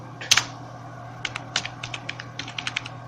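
Code is typed on a computer keyboard in a quick run of crisp, close key clicks, with a steady electrical hum underneath and no talk.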